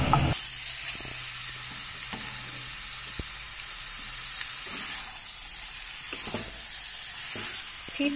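Chicken masala with potatoes fries in a pan, giving a constant bright sizzle with soft, regular scraping of the stirring spoon, close and fairly quiet.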